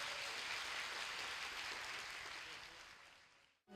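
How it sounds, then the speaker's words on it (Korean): Audience applause at a 2017 POSTECH university matriculation ceremony, given for the freshman panel: dense, steady clapping from a large crowd that holds for over three seconds, then thins and cuts off abruptly. "신입생 패널에게 마지막으로 큰 박수 부탁드립니다"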